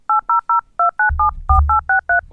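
Synthesized DTMF telephone keypad tones from DECtalk software dialing a number: eleven short, evenly spaced dual-pitch beeps in quick succession, with a low hum under the later tones.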